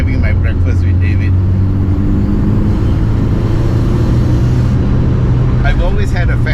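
A 1974 BMW 2002 Turbo driving, its engine a loud steady low drone with a brief rise near the end, close by, with a voice talking over it.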